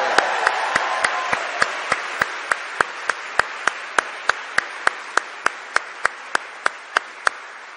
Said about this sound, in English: Leave them clapping.